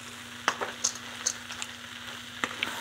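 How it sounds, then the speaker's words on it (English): Taco salad ingredients being stirred together in a bowl, with soft wet scrapes and a few light clicks and taps over a faint steady hum, close and quiet. "let's just mix this all up"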